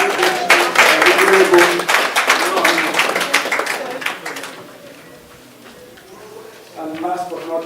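An audience at a Nigerian community business banquet applauds with dense clapping for about four seconds, which fades into room noise before speech resumes.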